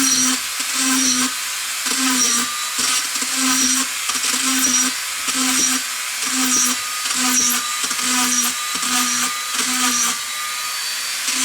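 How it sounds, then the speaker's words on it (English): A small high-pitched Dremel rotary tool whines continuously, drilling burner holes in a gas grill's metal burner, its pitch dipping and rising in regular pulses, close and loud. "I find it really easy with the Dremel because the Dremel tool is very light and it's very fast"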